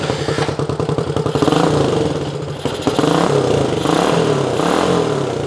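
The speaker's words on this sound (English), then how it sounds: "And I'm starting it with my bionic leg." Honda CT90 motorcycle engine kicked over and firing, a rapid chugging putter that runs roughly and steadily for several seconds, close and loud with no talking.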